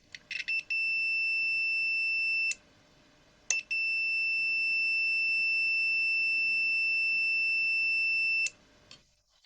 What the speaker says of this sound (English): I turned on the multimeter for continuity testing